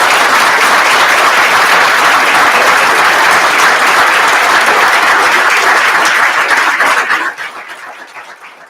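Loud, sustained applause from a school board meeting audience honoring 8th graders, dense clapping throughout before fading quickly near the end.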